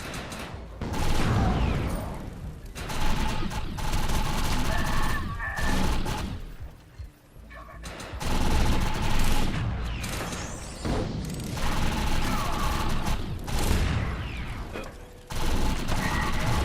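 Sustained automatic gunfire in the video game Defiance as a player shoots an enemy while a shield recharges, loud rapid bursts nearly continuous with short pauses, plus mechanical weapon clatter.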